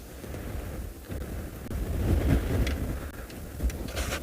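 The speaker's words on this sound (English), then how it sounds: "I apologize if you can hear the wind, but it is quite windy where we are now." Gusty wind buffets the microphone on a South African safari drive in a low, rumbling roar that swells and eases over a few seconds, with no other sounds standing out.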